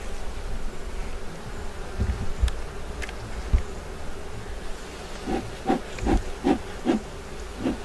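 Honey bees hum steadily over beehive frames at an outdoor Azerbaijani apiary, a dense continuous drone close by, with a few soft knocks and bumps against the wood.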